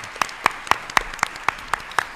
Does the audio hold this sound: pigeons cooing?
no